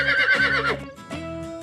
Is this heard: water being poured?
no